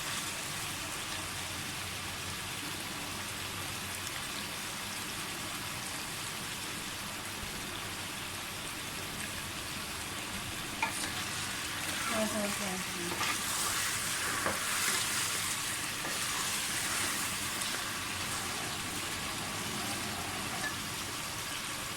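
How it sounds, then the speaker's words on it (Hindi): Chicken browns in a pan for degi-style qorma, giving a steady, even sizzle and frying hiss throughout, with a few faint stirring scrapes partway through. "तकरीबन 5 मिनट हो गए मुझे चिकन भूनते हुए"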